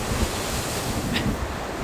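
Strong, cold winter wind blows across a beach, roaring straight into the microphone as a loud, continuous rush, with surf underneath and a brief gust peaking near the middle.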